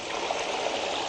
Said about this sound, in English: Same thing, open the sluice, and the water gushes out of here